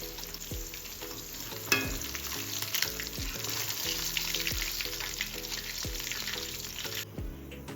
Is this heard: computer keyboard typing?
no